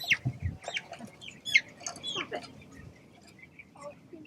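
Live chickens on a chicken farm cluck and squawk in short, scattered calls at close range, with several birds overlapping at moderate volume over a quiet background.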